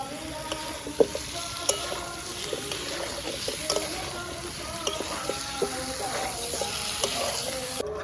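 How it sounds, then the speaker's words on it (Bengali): Potatoes and meat fry together in oil in a pan, a continuous close sizzle with repeated stirring scrapes and clinks of a spoon against the pan over about eight seconds, no talking. "আলু আর মাংসটা একসাথে দিয়ে দেবো একসাথেই কষাবো"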